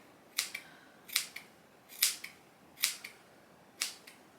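Scissors cutting long hair with the ponytail method, five crisp, close snips at a steady pace, each a sharp short crunch with a faint second click, in a quiet room.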